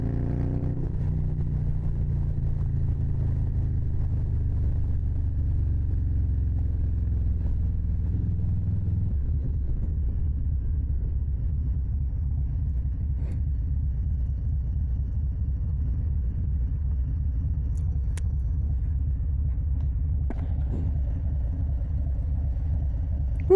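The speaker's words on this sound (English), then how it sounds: "keep this bike almost at a standstill and keep it upright with just a little bit of clutch and the throttle pulled in" A motorcycle barely rolling at near standstill, held upright on a slipping clutch with a touch of throttle, its engine idling in a steady low rumble that drops in pitch partway through and continues close and alone.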